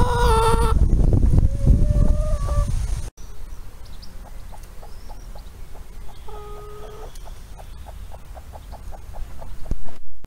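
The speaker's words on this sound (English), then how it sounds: "So they're all busy being chickens." Chickens in a hen run with a hen house, giving soft, scattered clucks and short calls at middle distance under a steady outdoor background, after a brief burst of louder noise at the start.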